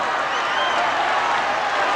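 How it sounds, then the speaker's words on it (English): Boxing arena crowd at the Ali vs Norton fight, a continuous wall of cheering and applause with blurred voices rising within it, loud and sustained. "The crowd urging Ken Norton, perhaps many of them urging Ali, the 5-1 favorite, to come on"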